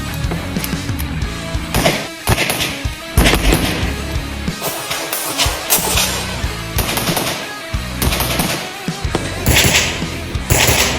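Suppressed Vz.61 Skorpion semi-automatic pistol firing, a series of sharp blowback shots in irregular bursts and singles across the clip, loud and close with no talking.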